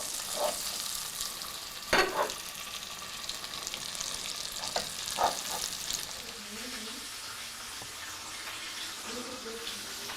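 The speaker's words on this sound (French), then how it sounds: "Et nous allons démarrer la cuisson de la viande" Lamb chops begin cooking in a pan with a soft, continuous sizzle, a few louder thumps and clatters early on, then a quieter hiss with faint murmuring voices.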